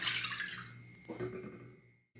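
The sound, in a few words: water poured into a thick aluminium pan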